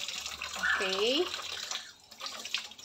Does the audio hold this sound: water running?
yes